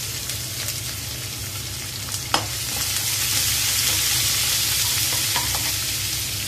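Onion and curry leaves fry in hot oil with chana dal and urad dal for a moong dal khichdi, a steady close crackling sizzle with a sharp utensil tap partway through and no voices.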